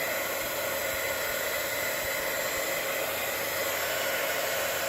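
A heat tool warms up for a Christmas card craft with a continuous, loud, breathy blowing roar that holds steady and close for the whole stretch.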